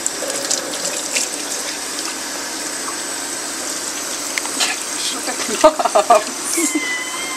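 Water running steadily from a tap while an elderly dog is bathed, a constant hiss under quiet voices, with a few splashes and knocks near the end.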